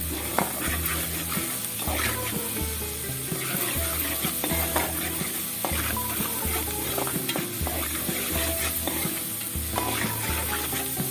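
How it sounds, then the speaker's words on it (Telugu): Ginger garlic paste fries in oil with a constant oily sizzle, with stirring scrapes and a low rhythmic background hum throughout; nobody speaks. "అల్లం వెల్లుల్లి పేస్ట్ వేసుకొని పచ్చివాసన పోయేంత వరకు డీప్ ఫ్రై చేసుకోవాలి."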